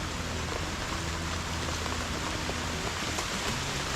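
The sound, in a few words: rain falling on house roof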